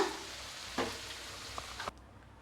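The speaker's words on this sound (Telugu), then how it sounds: "ఒక నిమిషం పాటు ఆయిల్లో ఫ్రై చేసుకుంటే మన శనగల తాలింపు కూడా రెడీ అయినట్లే" Chickpeas for a tempering sizzle and crackle in hot oil with a steady frying hiss and a few stirring scrapes, close up, before the sound cuts off abruptly.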